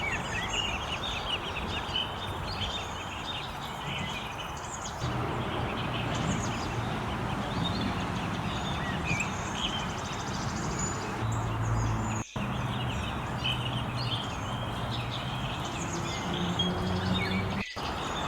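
Ducks and ducklings gathered near water outside a house in New York, with continuous chirping and calling from many birds at moderate distance, a few louder calls standing out.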